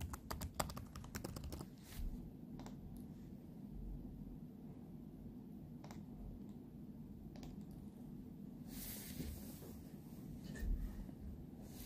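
Someone types a password on a computer keyboard, giving a run of quick, close clicking keystrokes with short pauses between bursts against a quiet room background.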